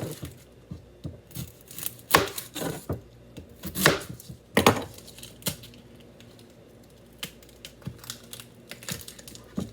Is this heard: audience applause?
no